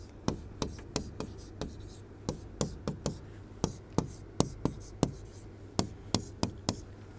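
A pen or marker tapping and scratching on a board while drawing chemistry structures in a lecture, with about twenty crisp, evenly spaced strokes and taps, close and clear with no talk.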